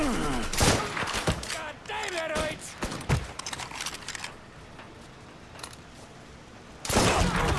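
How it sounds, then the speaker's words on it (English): Bursts of gunfire in the video game Mafia III, several loud close shots in quick clusters, then a quieter stretch and a final heavy burst, with a player talking over parts of it. "Who is fucking shooting at me?"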